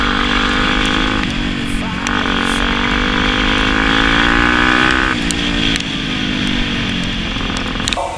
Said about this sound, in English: run in, pushing the dirt bike, hop on, and just pop it into first gear